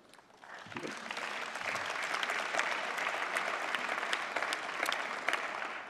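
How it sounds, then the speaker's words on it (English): Sustained audience applause after a speech by Belgium's Prime Minister at a celebration of the European Parliament's 70th anniversary, swelling quickly and holding as a dense, steady, fairly distant crowd clatter. "Ça aurait été bizarre de ne pas avoir un applaudissement par rapport à cela."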